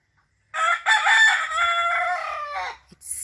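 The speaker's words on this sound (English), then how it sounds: "It's so nice waking up to the sound of the rooster." A rooster crows once up close and loud, a long drawn-out call that trails off, with a brief rustle at the end, set on a farm in Jamaica where cassava is made into bammy.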